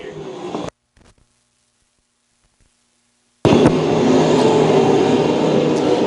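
USAC sprint cars race at Lakeside Speedway. A loud engine snarl cuts off abruptly into near silence for a few seconds, then roars back full and sustained as the cars run down into the turn.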